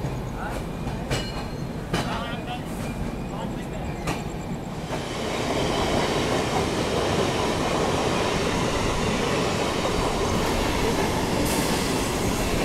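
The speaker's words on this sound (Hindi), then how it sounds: "इस सेंट्रल रेलवे की लोकल EMU" A Central Railway local EMU train runs past at a junction station, its rolling rumble and wheel clatter steady at first, then swelling louder and fuller about halfway through and holding to the end.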